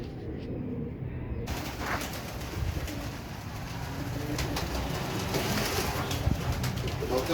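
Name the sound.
pigeons cooing at feeding time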